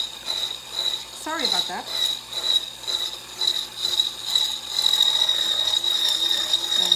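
An electric whisk whirs steadily through pastry cream with a thin, high mechanical whine, holding a constant drone throughout; a brief spoken remark cuts in partway.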